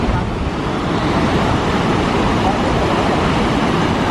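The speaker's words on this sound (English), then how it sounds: "Waterfall in its glory." Niagara Falls waterfall, a dense steady roar of crashing water, loud and unbroken throughout, with wind buffeting the microphone.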